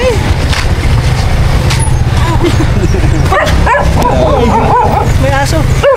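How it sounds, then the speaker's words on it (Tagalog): A dog barks and yips several times amid a busy street scene with a tricycle and motor vehicles nearby, the barks mixed under overlapping voices talking throughout. "May aso."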